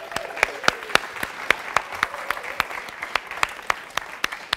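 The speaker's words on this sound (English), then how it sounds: "round of applause to the tech crew." An audience at a tech conference talk applauds the tech crew, with sharp individual claps standing out over a steady wash of clapping from the crowd.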